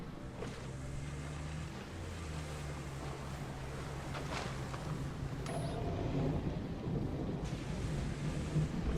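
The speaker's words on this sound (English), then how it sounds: "Sounds like a storm's coming in." Low thunder rumbles through a stormy scene in the Roadcraft video game, a long deep rolling drone that swells slightly toward the end, with faint crackles above it and no speech.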